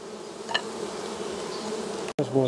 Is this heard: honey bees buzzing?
yes